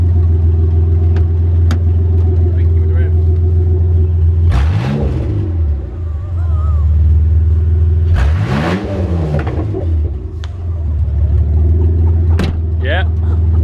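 A car engine with a custom straight-through exhaust runs loud and steady, with two sharp revs rising and falling around the middle; a voice sounds over the constant rumble.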